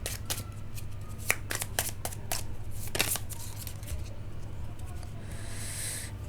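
Playing cards are shuffled fast in a series of quick, crisp riffling bursts close by, with brief pauses between them and a steady low hum underneath.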